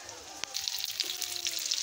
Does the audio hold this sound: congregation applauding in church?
no